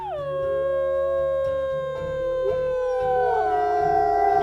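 A wolf in the video game Wildfire lets out a long, loud, tonal howl that holds and bends in pitch over several seconds, sounding close with a low droning layer underneath.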